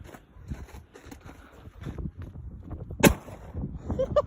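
A black powder pistol fires one sharp, loud report close by, standing out against wind noise on the microphone and rustling handling sounds.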